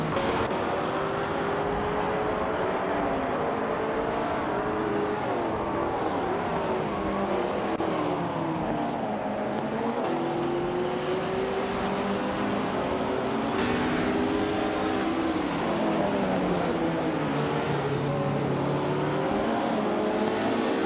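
Race cars lap a circuit in a steady, loud engine drone that rises and falls in pitch as the cars accelerate and pass. No one talks.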